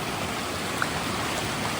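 Strong water rushing at a lake, a steady broad churning roar held at an even level for the whole moment with no voices.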